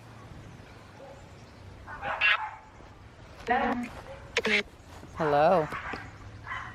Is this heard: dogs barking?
yes